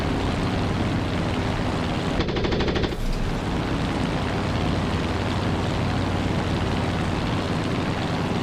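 An aircraft cannon fires one short, loud burst in the DCS flight simulator, heard over a constant dense roar of engine and wind noise that continues steadily afterwards.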